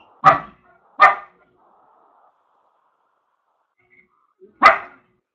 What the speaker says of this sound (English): I'm hearing somebody's dog.